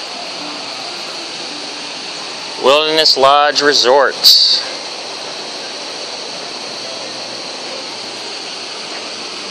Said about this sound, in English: Here's the creek where the water comes down off of the waterfall.